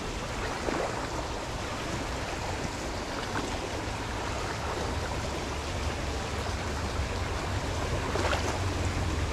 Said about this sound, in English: The water goes under that rock.